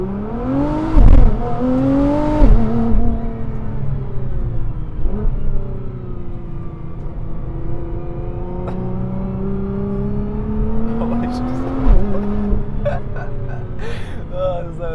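A 950 PS Nissan GTR launching hard in race mode, its engine note rising and falling through loud revving surges as it accelerates, heard from inside the cabin with people talking over it.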